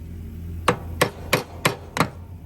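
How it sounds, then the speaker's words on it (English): Five sharp metal hammer strikes on the center piece of a blade spindle on a Wright Stander Intensity mower, evenly spaced about a third of a second apart, close and loud over a low steady hum. "I think I'm gonna try hammering this a little bit."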